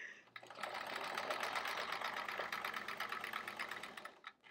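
A sewing machine runs in one continuous, even burst of rapid stitching while free-motion quilting a chevron quilt. It is close and clear, starts and stops abruptly, and no one speaks.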